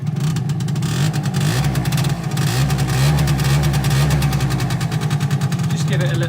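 Aprilia SR50 R scooter's small 50cc engine held at a steady, buzzy mid-level rev with slight fluctuations, close by and continuous, with a voice speaking over it.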